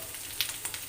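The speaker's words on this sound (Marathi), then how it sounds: "बरोबर खायला मी हे तांदळाचे पापड तळते घरी बनवलेले" Homemade rice papad frying in hot oil in a home kitchen, a brief soft sizzle with a few small crackles, close and fairly quiet.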